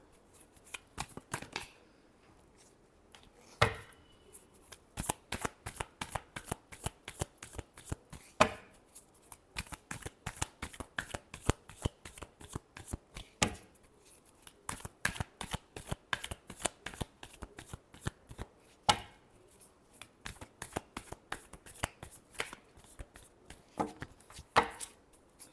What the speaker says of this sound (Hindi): एक बार कार्ड शफल कर लेते हैं।